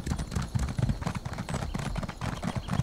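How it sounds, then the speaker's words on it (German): Horse hooves clopping in a steady riding rhythm in The Elder Scrolls Online, close and moderately loud, continuing throughout with no speech. "müssen wir reiten"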